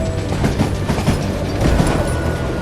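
A train rumbles along in the western video game Call of Juarez: Gunslinger, its steady clickety-clack of wheels and rolling drone carrying on close and loud throughout.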